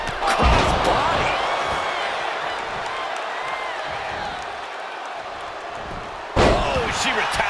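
A wrestler in the WWE 2K25 video game is slammed face first onto the mat with a sharp, heavy impact, followed by a sustained arena crowd roar and a second thudding hit near the end.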